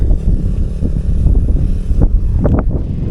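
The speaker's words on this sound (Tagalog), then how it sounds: "grabe yung hangin" Strong wind on a mountain peak during a bicycle ride buffets the microphone with a constant heavy, low roar and gusty thumps, loud and close.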